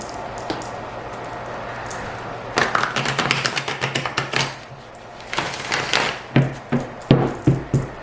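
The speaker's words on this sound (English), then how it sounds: "Okay, I'm going to shuffle one more time." Quick, rapid flutters of cards being shuffled, with bursts of riffling and tapping close by, in irregular groups.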